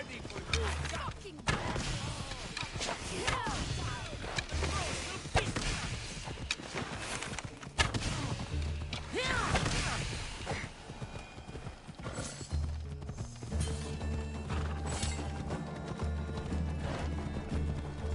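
Horse hooves clip-clopping at a gallop in Assassin's Creed Odyssey, with neighs and whinnies mixed in and someone talking over the game sounds throughout.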